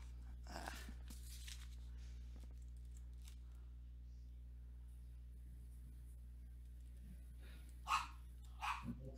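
A dog barks a few times in the distance, faint and sparse, over a steady low electrical hum, with a short bark near the start and a couple more near the end.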